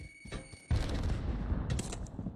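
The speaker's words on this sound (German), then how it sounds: "Die schießen auf mich. Von oben," Gunfire in the online shooter Truy Kích: a sudden loud burst of rapid shots kicks in and continues as a dense, crackling fusillade. A few sharper bangs punch through near the end.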